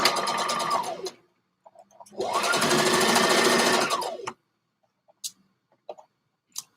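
Sewing machine stitching the neck and shoulder seam of a stretch-fabric garment, two loud steady whirring runs separated by a short pause, then a few faint clicks.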